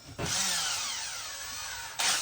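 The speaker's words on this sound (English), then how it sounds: "what I'm going to do now is drill my hole" A power drill drilling a pilot hole with a small bit whirs steadily up close for about two seconds, starting abruptly and surging again briefly at the end.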